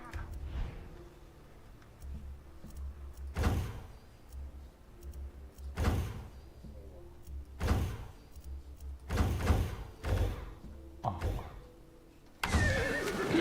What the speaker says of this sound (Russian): Волшебная лошадь.